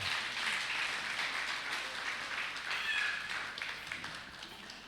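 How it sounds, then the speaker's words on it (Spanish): A church congregation applauds together during a Sunday service, a loud, even wash of clapping from many hands that swells and slowly tapers off. "Dale un aplauso al Señor por la palabra."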